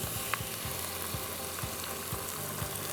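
Two to three large tomatoes, added to a pan for a chicken meatball soup, fry with a steady sizzle and a few soft stirring knocks, heard alone without any voices.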